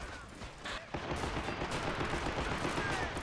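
Steady machine-gun fire in Men of War: Assault Squad 2 crackles continuously with scattered shots and battle noise, fairly dense and unbroken, a brief gap early before the firing thickens.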